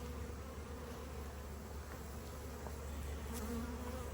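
Honeybees buzz steadily during a bee package install, a low continuous hum of many insects close by, quiet and unbroken with no talk.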